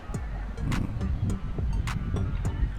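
A solar-cell electric fan runs on speed three, blowing a steady, fairly loud rush of air close to the microphone, with faint tapping and clicking behind it.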